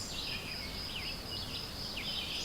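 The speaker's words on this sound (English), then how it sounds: "all the insects buzzing around." Insects in Weiser State Forest on a morning campout, a faint continuous high-pitched buzzing drone with a few bird chirps mixed in.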